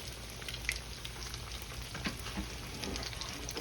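Snapper coated in Japanese breadcrumbs fries in hot oil, a continuous fairly quiet crackling sizzle with small pops throughout and nobody speaking.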